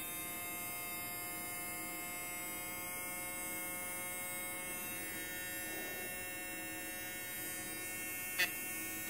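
A small rotary tool spins steadily while grinding down an acrylic denture, a thin, constant electric whine with a faint low hum that carries on evenly throughout, quiet, with no talking.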